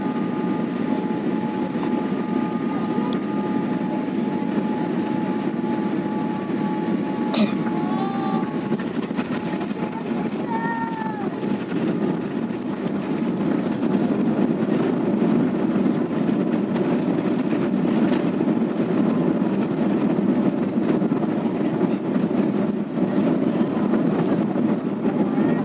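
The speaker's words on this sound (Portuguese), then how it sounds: "Nesse momento é hora de acompanhar a aterrissagem de um Boeing 787-800." Boeing 787-800 airliner landing at Mohamed V airport in Casablanca, a steady broadband engine and airflow roar holding at even loudness throughout, with a few faint higher tones drifting across it.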